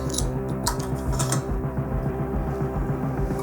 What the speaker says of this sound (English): Gonna throw the axle back in there.